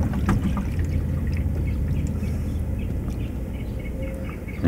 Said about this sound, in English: the water is still flowing in, so we'll wait about 5 or 10 seconds. Let that fill the black tank up with some gray water.